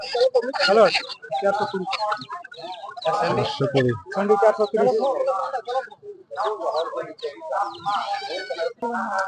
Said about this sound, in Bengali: এখানে বিক্রি হচ্ছে দেশি মুরগি